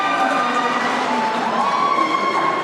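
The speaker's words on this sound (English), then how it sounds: "I don't know if you can hear that cheering, but that is some Manchester support in the crowd" Manchester Valkyries supporters cheer in a roller derby playoff crowd, a sustained, moderately loud roar of voices in an indoor arena with a thin whistle-like tone riding over it.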